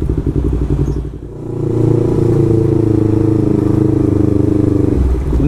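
A Yamaha MT25 motorcycle with an aftermarket exhaust idles with a close, loud, throbbing burble, dips briefly, then revs up and holds a rounded, dense, pulsing drone before settling back down.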